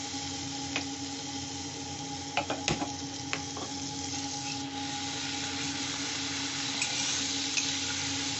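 Spice paste sautéed in a pan for a light mixed-vegetable curry gives a faint, steady low sizzle, broken by a few sharp spatula clicks and scrapes near the middle.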